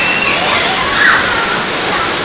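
Rampa waterfall in Andhra Pradesh, set among green hills and tall trees near a tribal village, pours as a steady broadband rush of falling water, close and constant, with a voice faintly present underneath.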